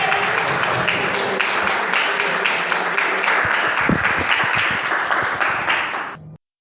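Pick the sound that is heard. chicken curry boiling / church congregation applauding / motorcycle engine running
church congregation applauding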